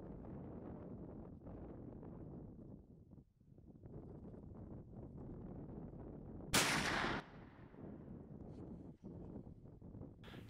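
A single rifle shot at a whitetail deer during a hunt cracks out loud and sharp midway, following and followed by steady outdoor wind buffeting the microphone.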